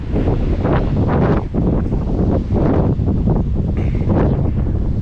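Cold wind buffets the microphone on a sandy beach in Estonia, a loud, steady rumbling roar in gusts that swell and ease, with no talking.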